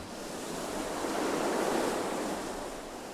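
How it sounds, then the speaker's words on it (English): Sea waves lapping and washing onto a beach beside a seafront promenade, a steady broad rush of surf that swells slightly louder midway and then eases, continuous with no voices. "The sea lapping down."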